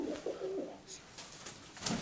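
Fancy domestic pigeons in a backyard loft give a few short, low coos, close but fairly quiet, with faint rustling between the calls.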